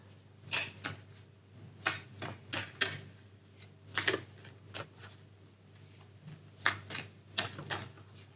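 Tarot cards handled and shuffled by hand in a quiet room, a series of crisp riffling, snapping bursts in irregular clusters, close and fairly faint, with no talking.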